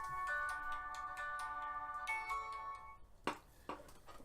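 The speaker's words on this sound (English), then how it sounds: "Sorry if you can hear, that's my phone going off." A phone ringtone plays a repeating bright chiming melody for about three seconds, moderately faint and alone, followed by a couple of soft knocks or clicks.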